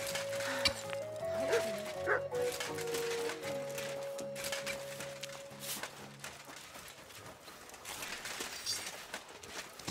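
In the video game Kingdom Come: Deliverance II, a dog barks and yips in several sharp bursts with some whimpering, close and fairly loud, over faint background sounds.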